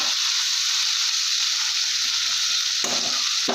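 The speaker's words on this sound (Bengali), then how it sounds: "ভাজা করে নিলাম ডাটা আলু পটলটা এবারে দিয়ে দেবো" Stems, potato and pointed gourd fry in hot oil with a loud, steady sizzle that never lets up, and a brief stirring scrape comes near the end.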